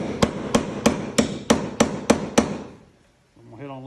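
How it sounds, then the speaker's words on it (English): A hammer taps an extractor into a stripped, rusted Jeep windshield bolt, giving eight sharp, evenly spaced metallic strikes close up, then falling quiet before a short tonal sound at the end. "gonna hit on a little hammer, a little harder"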